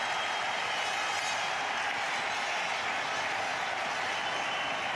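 A cricket stadium crowd in Sharjah roaring after a Sachin Tendulkar boundary against Zimbabwe, a dense continuous wash of distant cheering with no break.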